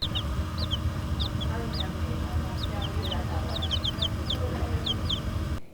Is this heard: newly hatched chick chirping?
yes